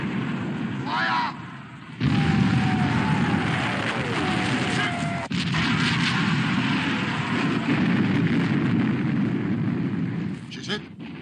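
Naval gun salvos and shell hits in the black-and-white British war film Sink the Bismarck, heavy continuous booming roar with dense low rumble throughout, a brief drop near the start, and a descending whistle overhead.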